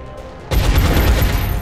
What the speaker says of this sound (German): reißt das MG hoch und macht das Magazin leer